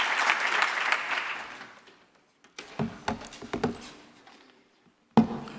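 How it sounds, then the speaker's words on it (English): Round of applause at an industry stakeholder forum: a dense burst of clapping fades out, then a few isolated claps and bumps follow, ending in one sharp knock. "Can we give him a round of applause just for that?"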